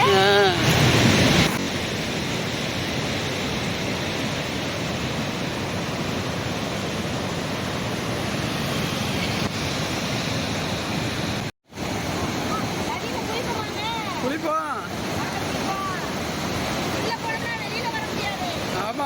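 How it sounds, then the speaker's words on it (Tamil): Loud, continuous rushing water roars steadily as a torrent pours through an open sluice gate near the Kaveri River, with faint voices occasionally audible beneath it. "தண்ணி எவ்வளோ சத்தம் கேட்குது பாருங்க"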